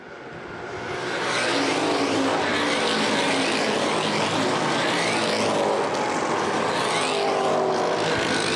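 Street stock race cars roar around Winchester Speedway in a loud, continuous wash of engine noise that swells over the first second and then holds steady, with no voices over it.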